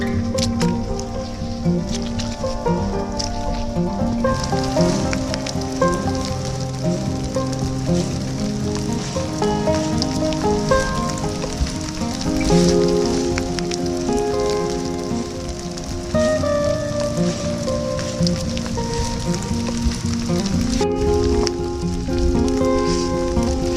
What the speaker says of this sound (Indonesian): trek basah dan guyuran hujan terus-menerus membuat langkah kami sedikit melambat